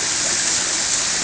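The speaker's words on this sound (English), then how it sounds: "Waterfall." Waterfall beside a koi pond at Bueng Pai Farm, a steady, close rushing wash of falling water that stays even throughout with no voices.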